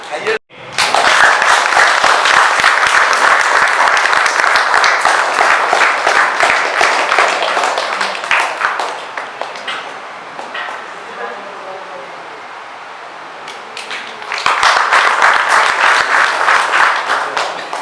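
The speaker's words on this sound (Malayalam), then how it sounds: "ബലത്തിലൊന്ന് കയ്യടിക്കും." Sustained crowd applause at an NDA candidate announcement for Kannadi panchayat, loud and dense for most of the stretch, dipping briefly to quieter clapping before swelling again near the end.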